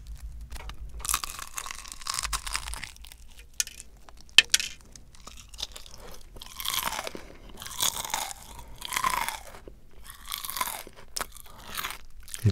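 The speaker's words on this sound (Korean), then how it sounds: "튀김옷이 되게 바삭해요." Close, loud crunching bites into the crispy fried coating of fried chicken, coming in bursts with quiet pauses of chewing between them.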